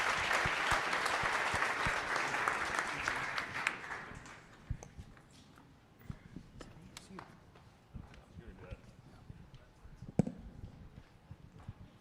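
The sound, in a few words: audience applause at pitch night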